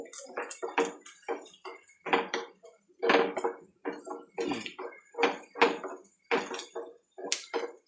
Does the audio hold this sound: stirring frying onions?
yes